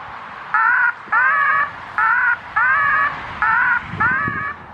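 An electronic bird scarer on farmland plays recorded crow distress calls, six loud harsh caws in a steady rhythm with short gaps between them, close and clear.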